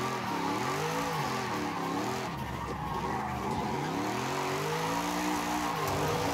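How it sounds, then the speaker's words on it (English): A Forza Horizon 5 car does a smoky burnout, its tires shrieking in a long, continuous squeal over a steady, revving engine drone, loud and close throughout. "Ah, this thing just burns those tires"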